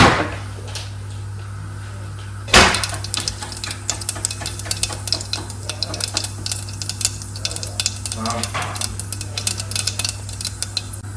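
Cumin and fenugreek seeds, with mustard seeds, crackling in hot oil for a lentil curry, heard as a soft sizzle peppered with rapid pops. A sharp utensil clank comes early, and a steady low hum runs underneath without speech.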